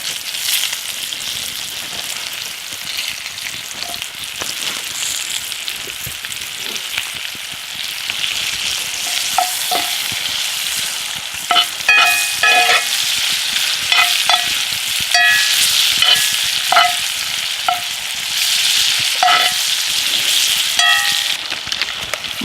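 Mushrooms frying in a hot buttered pan for surf and turf give a loud, continuous sizzle throughout, with scraping stirs and clinks growing busier in the second half, up close with no talking.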